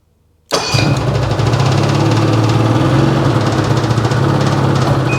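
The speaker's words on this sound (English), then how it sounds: "Definitely only running on one cylinder." A 2010 Ski-Doo 800R snowmobile engine starts abruptly after silence and runs on only one cylinder, a loud, close, rough, uneven idle with a steady pulsing drone that continues without any voices.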